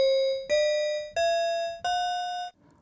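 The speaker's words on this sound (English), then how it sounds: "a bit crushed lo-fi sound" Four sustained, bell-like sampled notes from a Kontakt instrument played through a bit-crushed lo-fi effect, each struck cleanly and ringing with a grainy, gritty edge before a short fade.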